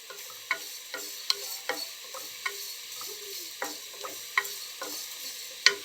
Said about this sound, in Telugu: కొబ్బరి వేసిన తర్వాత కూడా కొంచెంసేపు వేయించుకుందామండి